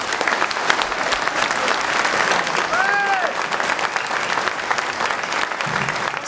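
An audience applauds finalists in a French contest for the best young apprentice butchers, with steady, dense clapping throughout and faint voices murmuring beneath it.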